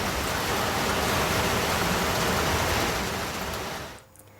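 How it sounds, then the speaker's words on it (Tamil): Heavy sudden downpour in Kodaikanal, Dindigul district, falling as a dense, loud, steady hiss that cuts off abruptly near the end. "சுற்றியுள்ள பகுதிகளில் திடீரென கனமழை பெய்தது"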